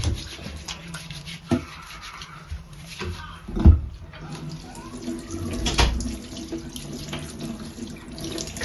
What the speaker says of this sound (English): that's him washing his hand with soap